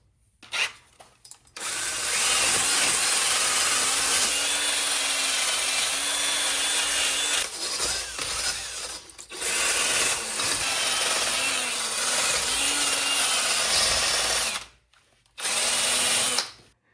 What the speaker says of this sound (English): I got a couple wire wheels. I'm gonna clean this face up, try to get as much of this surface rust off.